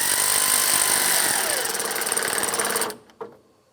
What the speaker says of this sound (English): So now I'm going to take my 10mm socket and tighten this up.